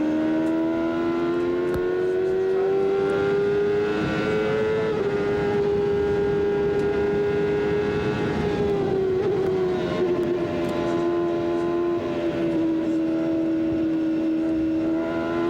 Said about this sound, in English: Let's listen to Johansson at work in second place